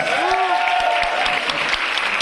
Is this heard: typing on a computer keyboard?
no